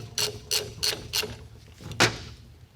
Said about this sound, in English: Take our nut off.